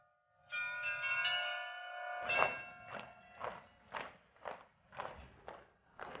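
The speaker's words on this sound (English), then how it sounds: "It is interesting for its marvelous sculptural decoration and for the Marian melody which chimes every" Church bells in Prague chime a Marian melody on the hour, a sustained ringing tone followed by a series of evenly spaced strokes, heard alone at moderate distance.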